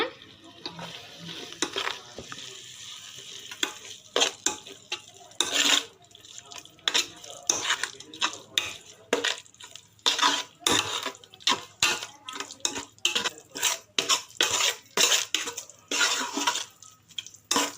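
Chilli powder is stirred into mutton biryani masala in a pot, with repeated rhythmic scraping and clanking of a spoon against the metal over a soft frying sizzle, close and fairly loud.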